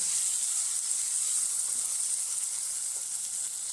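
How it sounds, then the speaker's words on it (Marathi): Finely chopped tomatoes cook with softened onion in a pan for prawn biryani, giving off a steady, even sizzling hiss close by with no talking. "यात आपण बारीक चिरलेले दोन टॉमॅटो टाकून घेऊ टॉमॅटो पण छान असं शिजवून घेऊ"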